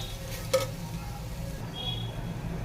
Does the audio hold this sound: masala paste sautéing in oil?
yes